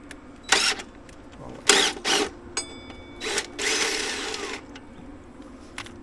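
A power drill fitted with a socket drives a long bolt, whirring in several short bursts and one longer run of about a second, close and fairly loud, with quiet pauses between.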